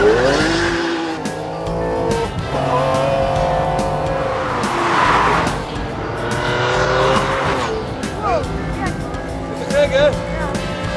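The world's most expensive turbocharged car accelerates hard with a rising engine roar, tire squeal and shifting revs heard from inside, while people talk and exclaim over it.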